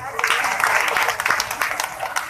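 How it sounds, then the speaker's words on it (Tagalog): Applause from an audience at an orientation ceremony, a light, scattered patter of clapping that sounds fairly thin and sits under faint background talk. "Parang mahina po yung palakpak."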